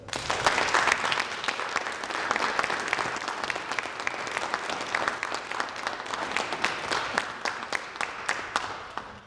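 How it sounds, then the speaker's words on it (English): A crowd at a Native American and Indigenous graduates' celebration claps steadily for a graduate, moderately distant, with dense, continuous applause and individual claps standing out toward the end. "everybody join me in that round of applause"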